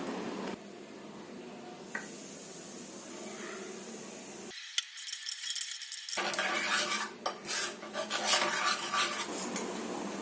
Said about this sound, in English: Now mix with chili powder